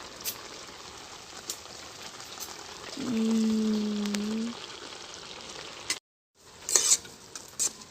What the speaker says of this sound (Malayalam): നമുക്കിനി മൂടി വയ്ക്കാതെ ഇളക്കിക്കൊണ്ടിരിക്കണം.